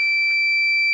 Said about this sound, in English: As we get to minus 15, it will alarm and open the Vault 3 contacts.